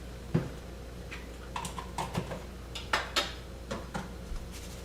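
A spoon scoops PB2 peanut butter powder into coffee, making quiet, irregular clinks and scrapes against the container, spaced a second or so apart in a hushed kitchen.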